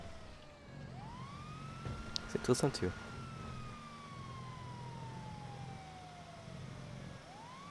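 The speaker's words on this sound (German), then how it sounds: "Ich stelle mal die Sirenen aus, die sind so nervig." Police car sirens wail in the video game GTA V, a single siren sweeping steadily up and down across the whole stretch, while a player speaks German briefly partway through.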